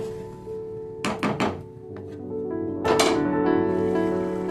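Metal lid set onto a pot of chicken cooking on the stove, a few quick clattering knocks followed by another clink, close and distinct over a steady background hum.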